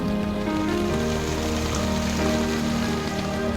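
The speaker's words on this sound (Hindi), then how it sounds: "मैं काम के साथ साथ बारिश भी एंजॉय कर पा रही हूँ।" Steady rain falls continuously and evenly, a dense close hiss of drops on surfaces with a faint low hum underneath and no talking.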